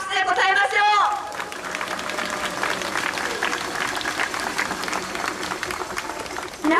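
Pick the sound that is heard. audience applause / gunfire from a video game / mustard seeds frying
audience applause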